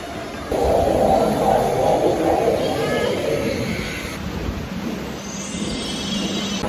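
The French Revolution roller coaster at Lotte World rumbles past as a loud, steady roar that swells suddenly and holds, with people talking over it.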